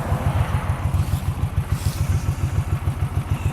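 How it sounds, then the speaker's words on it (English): A Honda CX500 motorcycle engine idles cold with a carburetor problem, a close, loud, rapid rhythmic chug that pulses steadily with slight unevenness. "It must take forever to let it idle and warm this thing up."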